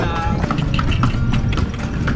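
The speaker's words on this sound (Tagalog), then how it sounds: "Dadaan ang Reynang Kabayo" Horse hooves clip-clopping on a road during a ride through North Luzon, a steady close rhythm of hoof strikes under passing traffic noise.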